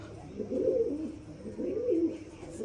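Soft, throaty cooing of pigeons, two rolling coos in a row over a quiet background.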